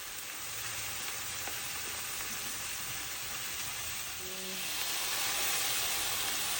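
Garlic and tomato sauté in a little oil in a pan on a stove, giving a continuous steady sizzle that grows slightly louder near the end.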